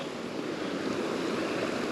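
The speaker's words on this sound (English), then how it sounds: "Oh, and the waves." Ocean surf washing steadily onto Laguna Beach, a continuous broad wash of breaking waves with some wind noise, no voices.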